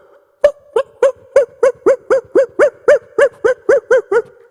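A human voice mimicking a feeble stray dog's bark, a rapid even series of about fourteen short, hoarse yelps, loud and close, with no talking in between.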